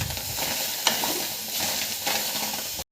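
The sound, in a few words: stirring chilies, tomatoes and onion frying in pan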